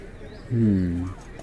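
Pigeons give a single clear cooing call lasting about half a second, close and moderately loud over a quiet background.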